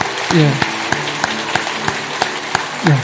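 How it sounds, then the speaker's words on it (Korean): A church congregation claps loudly during a Sunday worship service to honour its Sunday-school teachers, with a steady wash of applause and sharp individual claps running under a speaking voice. "마음껏 크게 박수로 축복하겠습니다"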